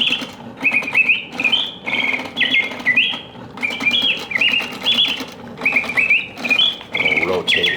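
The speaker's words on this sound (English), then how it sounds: "The birds sing with full voice," An antique Bontems singing bird cage automaton, a very large mechanical piece, fills the air with continuous bright trilling birdsong. Its chirps and warbling phrases repeat in quick bursts from close by, loud and unbroken throughout.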